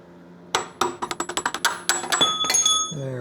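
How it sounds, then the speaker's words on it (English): A hammer taps a motorcycle axle into place on a Kawasaki Ninja 400: a run of sharp metallic taps, about a dozen in quick succession, some ringing briefly, with a pause and then a few heavier strikes. "And we can use the hammer the rest of the way."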